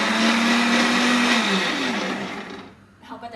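An electric blender purees boiled liver for baby food, its loud whining motor humming steadily before winding down and cutting off near the end, leaving faint clatter.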